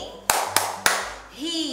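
Three crisp, evenly spaced hand claps from a children's rainbow clapping game ring out close and loud, then a voice begins speaking.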